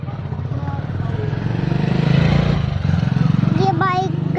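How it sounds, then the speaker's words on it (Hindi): A motorcycle passes nearby with a loud, steady engine drone that swells and holds through the stretch, and a voice speaks briefly near the end. "ये बाइक गई है"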